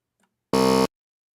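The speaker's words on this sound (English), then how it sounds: "That buzzer was perfect." A single short electronic buzzer, about a third of a second long, sounds loud and harsh against silence.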